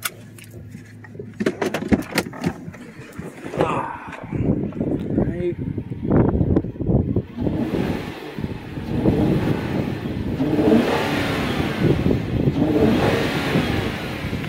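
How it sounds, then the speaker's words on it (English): A 2008 Jaguar XJ Vanden Plas engine is given a quick rev, a brief rise and fall of engine noise mixed with clicks, with someone talking over and after it. "We'll listen to a quick rev of the motor."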